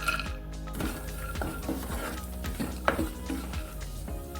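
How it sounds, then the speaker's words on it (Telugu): Almonds and cashews fry in hot ghee in a pan, with soft sizzling under repeated clinks and scrapes of a spoon stirring against the metal, close by. "నెయ్యి కాగాక ఇందులోకి బాదం పప్పు అలాగే జీడిపప్పు వేసి వేయించుకోవాలి."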